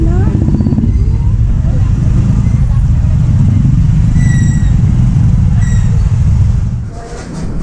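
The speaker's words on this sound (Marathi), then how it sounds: "आणि ट्रॅफिक जाम झाला बघा" Heavy traffic jam on a rainy market day, cars and motorcycles packed close: a loud, continuous low engine rumble and road noise dominates, with a few brief high horn-like tones poking through before the din eases slightly at the end.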